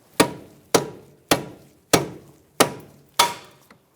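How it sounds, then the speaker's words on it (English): A dead blow hammer strikes the lower strut bolts on a 2009-2014 Nissan Maxima in six evenly spaced, sharp, close blows with brief ringing tails, followed by one faint tap. "With a dead blow hammer, I'm just going to see if I can tap these out."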